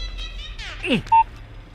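A single short electronic telephone dialing beep sounds just after a brief voice, clear and close against a quiet background.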